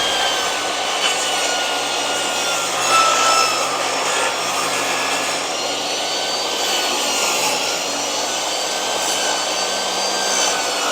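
A table saw makes a bevel rip cut through wood, its blade whining and rasping steadily and loudly from start to finish at close range.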